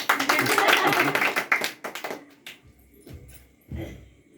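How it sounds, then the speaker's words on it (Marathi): A burst of clapping from a small group at a birthday celebration, close and lively, fading out after a couple of seconds, followed by quieter voices. "टाळ्या"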